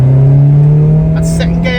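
A 30-year-old Vauxhall Nova's engine pulls hard on a wet road, its steady drone rising in pitch as it accelerates, loud and close throughout.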